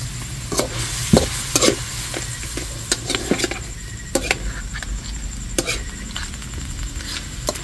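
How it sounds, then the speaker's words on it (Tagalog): Sautéed mung bean stew with crab and pepper being stirred in a pot, with close, irregular scraping and clinking of the spoon over a soft sizzle. "Ito lang pong hahaluin."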